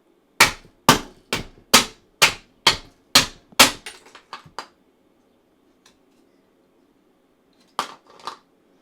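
A hammer strikes a 3D-printed carbon fiber PLA shell with about eight sharp, evenly spaced loud blows, followed by a few lighter taps and then two more hits after a pause.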